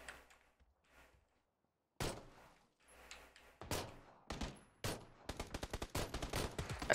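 Gunfire in PUBG, scattered single shots at first, then loud rapid bursts of automatic fire in quick succession near the end.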